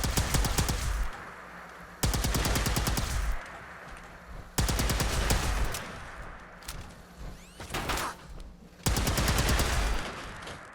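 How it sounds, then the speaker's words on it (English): Plasma pistol fire in the Fallout 4 video game: four loud bursts of rapid repeating energy shots, each lasting about a second, separated by brief pauses filled with lower combat noise and faint whooshing. "plasma pistol should do it"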